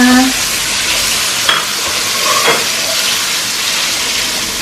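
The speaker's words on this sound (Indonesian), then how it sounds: "Gorengnya agak lama, ini tahunya bener-bener kering gitu" Loud, steady sizzling of tofu frying in hot oil, with an occasional faint scrape of stirring.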